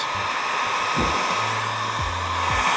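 Heat gun blowing a steady hot-air hiss while warming vinyl wrap on a Toyota Tacoma hood, close and continuous, with a few low thumps and hums in the background.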